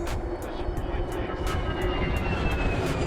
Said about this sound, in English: there's an airplane flying right over me